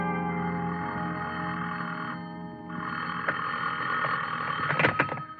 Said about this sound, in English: somebody was ringing a telephone in my ears